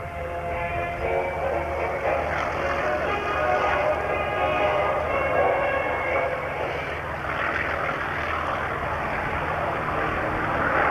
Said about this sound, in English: Now listen to the sound of the F-4U.